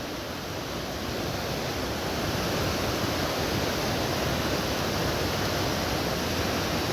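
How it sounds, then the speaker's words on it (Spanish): A dense, steady rush of flowing water fills the scene, broadband and unbroken, a river heard up close near the Santa Elena bridge in Joyabaj, Quiché. "Qué hermoso está el río, en serio, miren."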